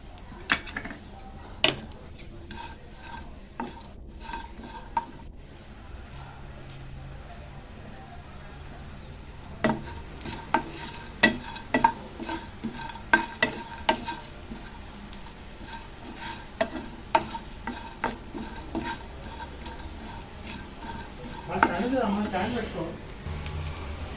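Grated coconut lightly roasting in a pan, with scattered clicks and scrapes of a spoon stirring against the metal and faint sizzling, mostly quiet between strokes.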